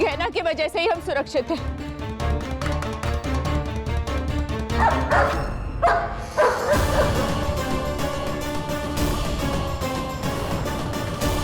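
A dog barks and yips repeatedly in a domestic drama scene, the sharp barks set under music and people talking.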